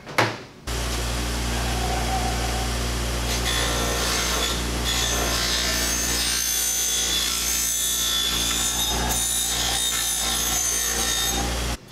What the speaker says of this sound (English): It's a buffing wheel.